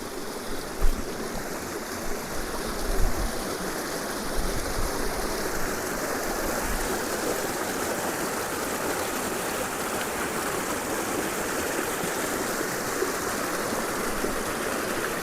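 A mountain stream flows near its source at Chooralmala, Kerala, with a constant close rushing and babbling of water, a few soft low thumps early on, no talking.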